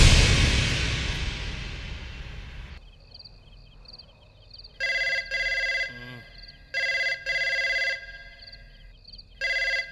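A telephone rings in trilling bursts, repeating three times with short gaps, heard fairly clearly after a loud noisy rush fades, with a faint brief voice between rings.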